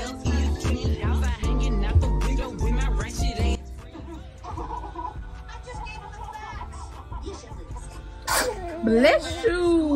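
A single sharp, explosive human sneeze bursts out near the start amid a noisy setting, followed by muffled voices and chatter.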